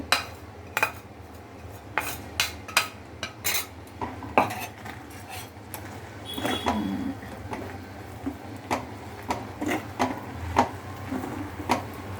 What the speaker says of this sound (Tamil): இது கொஞ்சம் அடுப்பில் வச்சு கொஞ்சம் கிண்டணும்